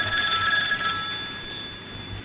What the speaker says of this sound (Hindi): Mrs Armstrong, telephone.